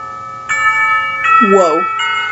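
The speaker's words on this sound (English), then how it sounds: "The lunch bell rings." A school bell rings through a sustained electronic tone in the Katawa Shoujo visual novel, sounding in three loud, clear pulses with a short burst of voice-like sound during the middle pulse.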